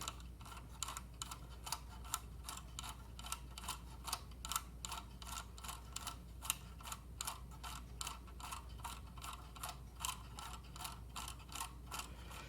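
Faint, evenly spaced ticking and whirring of a toy Electron Robot's internal gears as the mechanism shifts to open its machine gun turret, a steady mechanical rhythm with no voices.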